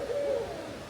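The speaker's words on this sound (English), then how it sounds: "That's an owl." A single owl hoots once in Central Florida woods, a short tonal call of moderate loudness over quiet background.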